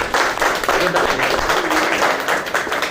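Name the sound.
loud audience applause at a seminar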